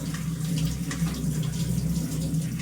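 Running water from a kitchen tap pours steadily as vegetables are rinsed under it, a continuous close splashing rush with no voices.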